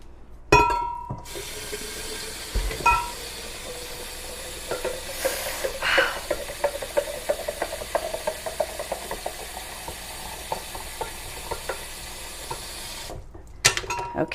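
Water runs steadily into a pitcher of cucumber, sugar and lime for agua fresca, a continuous pouring rush with a few clinks and knocks at the start and finish.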